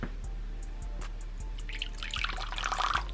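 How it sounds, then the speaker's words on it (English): Water poured from a beaker into the dish of a Brazilian red and white tarantula: quiet drips and a short trickle that grows into a brighter splash near the end, close and alone. "I'm going to go ahead and grab my beaker and fill its water up"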